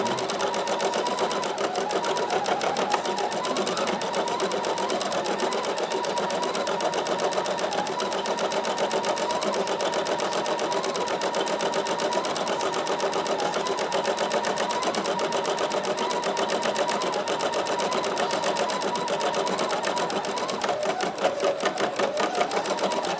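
An embroidery sewing machine stitches a freestanding flower petal, a fast steady mechanical whirring with rapid needle pulses that runs unbroken and loud throughout.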